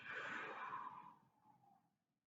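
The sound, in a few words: exhaling through pursed lips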